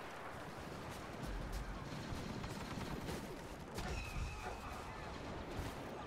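Blaster and gunfire in the Star Wars Battlefront beta on PC, rapid continuous fusillade with explosive bursts in a dense, noisy battle mix, faint voices under it.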